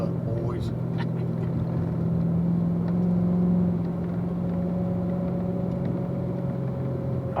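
Engines of several cars hum and rumble steadily as a group drives a slow cool-down lap on a race track, one sustained drone rising slightly midway, while someone talks over it.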